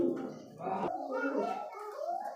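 High flyer pigeons coo in soft, wavering low notes close by, with a voice mixed in over the murmuring.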